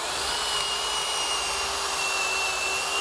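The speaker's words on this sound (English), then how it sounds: "Drill in a 1/2 inch diameter hole" A drill bores a 1/2 inch diameter hole into a tree log, lined up with a laser guide, as a steady, loud, continuous whine that carries on without pause from start to end.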